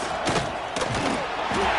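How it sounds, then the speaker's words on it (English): Dense roar of a football stadium crowd pressing on an opposing offense, a steady wash of cheering with a few louder swells and thumps throughout. "This crowd trying to make life miserable for this offense."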